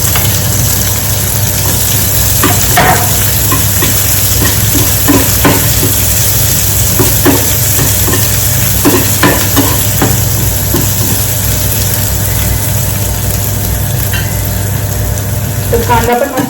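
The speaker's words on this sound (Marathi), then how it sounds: "तर कांदा पण मस्त ब्राऊन झालेला आहे." Onion frying in a pan until browned, with garlic, gives a steady loud sizzle under repeated scraping stirs from a spoon, close up in a home kitchen.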